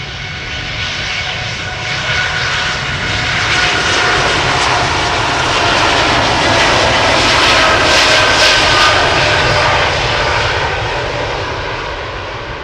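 A Nippon Cargo jet airliner passes up close on departure at Amsterdam Schiphol, a loud, steady engine roar that swells toward the middle of the pass and eases slightly near the end, with no voices.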